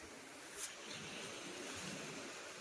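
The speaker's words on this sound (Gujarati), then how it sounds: "કેવા મોજા મારે" Soft, continuous wash of sea waves with a faint surge partway through, distant and low, no voices.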